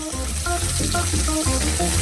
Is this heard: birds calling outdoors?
no